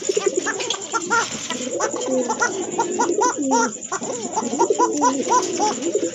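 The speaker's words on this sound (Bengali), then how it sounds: "দুইটাই কিন্তু আপনার সেম কোয়ালিটির কবুতর খুব অ্যাক্টিভ কবুতর" Pigeons coo in a close, continuous run of soft throaty calls overlapping one another, with a faint steady hum underneath and a few light background noises.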